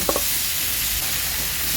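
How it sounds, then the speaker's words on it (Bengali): Jackfruit pieces frying in hot oil in a pan, an even, close and fairly loud sizzle with a soft clink or stir near the start, no talking. "এঁচোড়টা কিন্তু ভালো করে ভাজা হয়ে গেছে"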